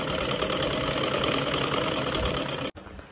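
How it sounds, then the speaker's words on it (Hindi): A sewing machine runs in a fast, continuous mechanical whir as it stitches a cushion cover, holding steady for a few seconds before stopping abruptly, with no voices. "तो बस मैं इस पर सिलाई लगा रही हूँ।"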